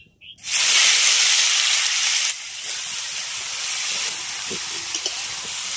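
A loud burst of sizzling as a spiced mixture hits hot mustard oil in a pan. The hiss is strong at first, then eases to a steady frying sizzle, close up, with no talk.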